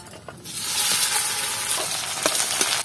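Onions sizzle loudly in a hot pan as they fry for a prawn bhorta, a steady bright hiss with occasional stirring scrapes and no talk.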